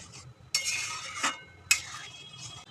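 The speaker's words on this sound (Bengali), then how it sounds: "স্বাদ মতো নুন দেব স্বাদ মতো চিনি এবারে সবটা ভালোভাবে মিশিয়ে নেব" Dal Amritsari being stirred in a pot after salt and sugar are added, with several bursts of scraping and clinking from the spoon against the pot between quieter pauses.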